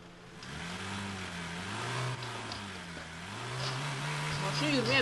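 In the driving game Drive Beyond Horizons, a car stuck in sand revs its engine in wavering, rising and falling drones, moderately loud, with voices chattering over it.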